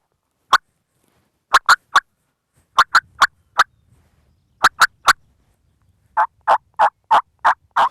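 Turkey hen yelps are imitated on a mouth call in loud, close bursts: single notes and short clusters separated by silence, ending in a steady run of six yelps, with no talking.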